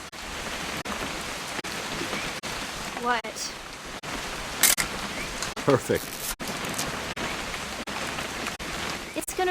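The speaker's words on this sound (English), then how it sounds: "It's gonna rain the whole weekend, isn't it?" Steady rain falls throughout in the video game What Remains of Edith Finch, a dense even hiss with brief spikes, while people talk over it now and then.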